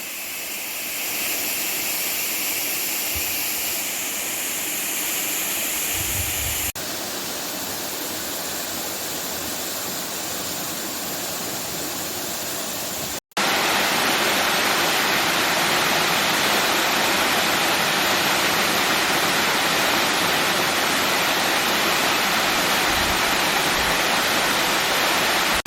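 Big waterfalls at Cacalotenando in Guerrero, Mexico pour as a loud, dense, unbroken roar that swells even heavier partway through.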